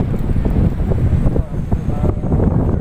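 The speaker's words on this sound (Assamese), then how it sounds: "সাগৰৰ পাৰত কি ধুনীয়া বতাহ" Gusty wind blows hard at the seashore by Haji Ali Dargah in Mumbai, buffeting the microphone with loud, uneven rumbling over the surf.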